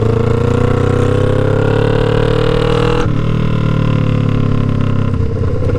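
Loud, steady engine drone of a 2009 Kawasaki Ninja 500 EX500 motorcycle, a continuous harmonic hum with a brief shift in pitch midway as the revs change, close and without talk.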